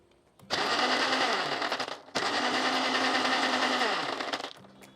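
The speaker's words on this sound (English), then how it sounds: "And now we need to simply blend everything together to prepare our cool Thandai." Kitchen blender whirring as it blends milk with thandai masala, two loud, close bursts of high-pitched motor whine and churning liquid split by a brief pause, then winding down.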